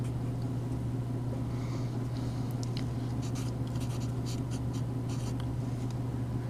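Pen or pencil scratches across paper while a multivariable calculus problem is worked through, with short bursts of strokes over a steady low electrical hum.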